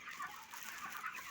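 Broiler chickens about five weeks old on a poultry farm cluck and flutter faintly in a steady, busy chatter as birds are caught for weighing.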